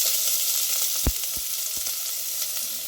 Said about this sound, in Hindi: अब इसे ना 1-2 मिनट के लिए अच्छे से भून लेते हैं